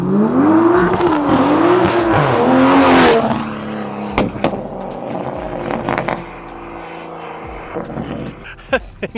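Toyota Supra with a B58 engine, Pure800 turbos and methanol injection accelerating hard and very loud, with rising and falling engine notes through the gears for about three seconds before pulling away, followed by fainter pops and crackles.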